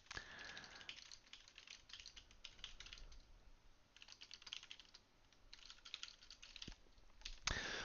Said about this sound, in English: I'm going to type in a phrase here